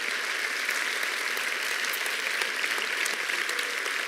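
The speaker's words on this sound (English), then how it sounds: "And now a round of applause." Steady applause fills the whole stretch, dense and even, from an audience at a world media congress award ceremony in Zaragoza where the King presents the Golden Pen.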